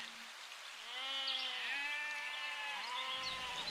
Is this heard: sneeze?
no